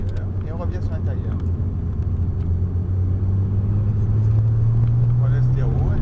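A Porsche accelerates hard on the Montlhéry circuit, a steady close engine drone whose pitch climbs gradually toward the end, with a voice talking over the noise.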